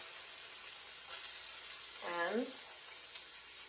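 Celery and mushrooms sauté in a hot, smoking wok, a steady, quiet sizzling hiss that runs throughout while someone speaks briefly over it.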